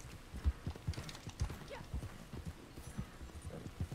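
Hooves of a horse galloping in the Red Dead Online video game, including sliding turns, with a quick, steady clip-clop rhythm that stays fairly faint throughout.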